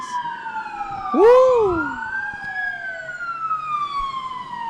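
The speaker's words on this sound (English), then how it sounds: "Sirens. This city is super active tonight." Emergency sirens pass through a city at night, wailing in long sweeping tones with a sharp yelp-like swoop partway through. The sound carries over steady road traffic, and one person briefly whoops.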